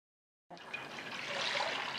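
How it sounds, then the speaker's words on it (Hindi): Water poured into a cooking pot for keema, a steady splashing, gurgling stream that starts abruptly and continues at a moderate, close level. "सबसे पहले उतना पानी डालें जिसमें कीमा गल जाए।"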